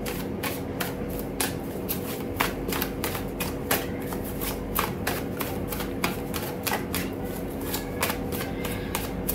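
Tarot oracle cards are shuffled and drawn in a rapid, steady run of crisp riffling snaps against a constant low background hum, with no talking.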